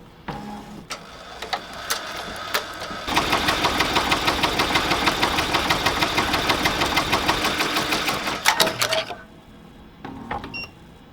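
An embroidery machine stitching with loosened thread tension runs for about six seconds as a steady, rapid mechanical chatter of even needle strokes, starting and stopping abruptly between quieter handling sounds.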